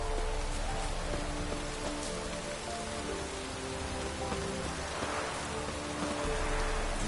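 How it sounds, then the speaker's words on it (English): Steady rain on a surface, a constant hiss of drops, fairly close and even, heard through a PS4 game stream with no voices. "Looks like rain."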